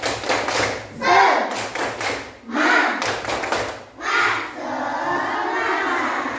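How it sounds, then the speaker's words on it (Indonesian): A classroom of children performs a rhythmic spirit clap at a teacher's cue, with several bursts of unison claps and thumps in loud patterned groups and voices of the class mixed in. "kita tepuk semangat dulu ya"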